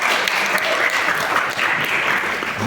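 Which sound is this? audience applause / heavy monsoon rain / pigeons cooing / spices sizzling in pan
audience applause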